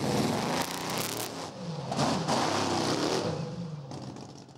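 A methanol-fuelled monster truck engine, in a 7-ton heavy-duty truck built from an everyday pickup, roars loud and close with a dense, sustained growl that surges several times as it revs, with no talking.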